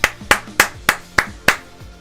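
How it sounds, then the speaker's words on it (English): Six sharp, evenly spaced claps ring out loud and close. They sound like one person applauding rather than a crowd, with no talk. "a round of applause for Tokes."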